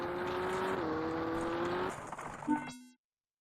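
A rally car engine in the Richard Burns Rally game holds a steady drone, then the throttle lifts and the pitch drops and fades to silence, with a brief electronic game tone near the end.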